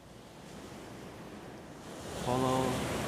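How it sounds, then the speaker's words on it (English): Ocean waves wash in a soft, steady surf hiss during an outdoor qigong session, swelling louder near the end as a faint low tone rises underneath. "Follow the ocean, the rhythm of this ocean."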